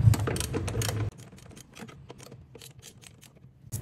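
Ratchet clicking in quick bursts while loosening a 12mm bolt and nuts on the throttle body of a first-generation Toyota Vios, close and crisp, with a louder mechanical clatter at the start and sparse rapid clicks afterward.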